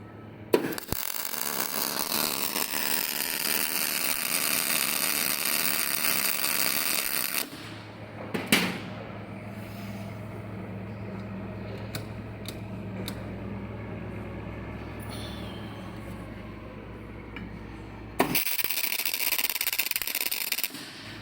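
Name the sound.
Miller Migmatic 273 MIG welder test weld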